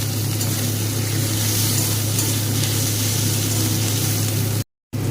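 Spice mix with chopped green chilli and tomato fries in hot oil for a fish curry, a loud, steady, dense sizzle filling the whole clip before cutting off abruptly near the end.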